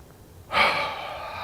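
A single sharp, deep inhalation during a guided breathing exercise swells suddenly out of near silence, then eases into a softer, sustained breath.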